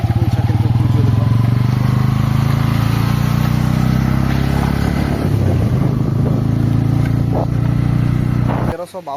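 A motorcycle engine drones loudly and steadily while climbing a ghat road up to Kapilas temple in Dhenkanal, Odisha, with rumbling and revving close by before cutting off abruptly at the end.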